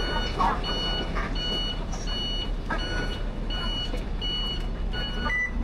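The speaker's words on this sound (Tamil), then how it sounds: "கைஸ், இதான் நம்ம பஸ்" City bus number 249 in Taiwan pulls in, sounding a steady run of loud, evenly spaced electronic beeps over street noise and engine rumble.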